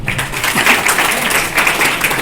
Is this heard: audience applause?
yes